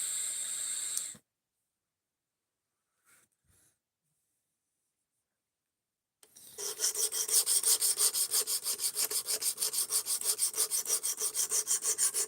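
A knife of S35VN steel is sharpened on a 220 grit stone: a brief scrape, a long quiet pause, then a close, fairly loud run of quick, regular rasping strokes.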